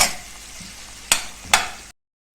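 Tomatoes with ginger-garlic paste sautéing in a pan for veg pulao, a steady sizzle broken by two sharp stirring scrapes before the sound cuts off.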